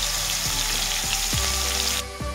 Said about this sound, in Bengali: খুব একটা কড়া করে ভাজবো না আমি।